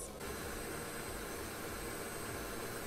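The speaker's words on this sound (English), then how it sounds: "And now we do another mix and we keep it whisking for about 5" An electric whisk beats egg white for gingerbread icing, a steady, loud whirring drone that runs without a break from start to finish.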